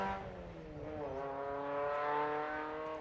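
A 2-litre 1972 Group SC production sports car at a grassroots historic sprint event, its engine droning in a steady, rising and falling note as it runs past at moderate distance, no voices over it.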